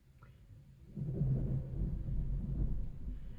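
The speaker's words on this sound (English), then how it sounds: "Can you hear the thunder?" Thunder from a passing storm sounds as a low, muffled rumble that swells after a quiet start and rolls on steadily, distant and fairly faint.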